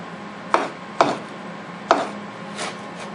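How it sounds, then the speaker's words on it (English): A Benchmade 375 Adamas knife chops through 550 paracord in three sharp, loud strikes spaced about half a second apart, followed by a softer fourth thud, with no talking. "I'll do some quick chopping cuts in this stuff."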